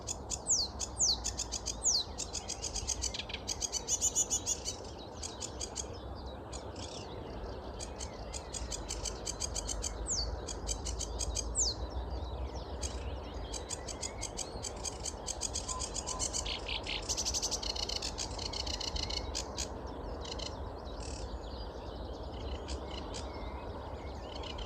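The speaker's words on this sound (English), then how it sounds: "that's a sedge warbler" A sedge warbler sings in a dawn chorus beside the River Wensum in North Norfolk, its scratchy chattering phrases repeating at moderate distance over a steady low rumble of background noise, with other birds faintly present.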